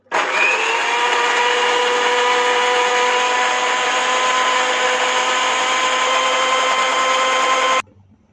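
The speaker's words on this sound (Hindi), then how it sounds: "इन्हें ब्लेंडिंग जग में ट्रांसफ़र कर देंगे। चनों में से हाफ कप पानी भी इसमें शामिल करेंगे और इसे अच्छी तरह से ब्लेंड कर लेंगे।" A blender blending chickpeas with water runs at a steady, loud whir for about eight seconds, then cuts off abruptly.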